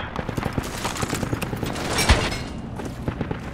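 Dense in-game battle noise from Project Reality infantry combat, with rapid overlapping gunfire throughout and one sharper, louder blast standing out near the middle.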